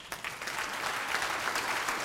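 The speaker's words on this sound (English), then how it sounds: "If we can give him a big round of applause" Steady applause from a panel audience, dense clapping throughout at an even, fairly loud level.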